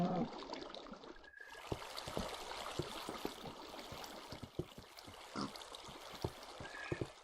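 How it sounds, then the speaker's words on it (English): Water flows and trickles in the video game Minecraft, a steady close wash with small splashes and pops running through the whole stretch. "Add the last bit of water."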